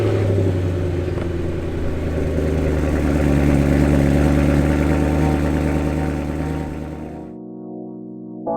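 A BMW E36 engine idles with a steady low rumble near a driveway, running continuously before cutting off abruptly near the end.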